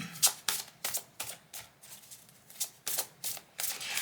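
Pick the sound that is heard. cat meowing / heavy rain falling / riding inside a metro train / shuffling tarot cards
shuffling tarot cards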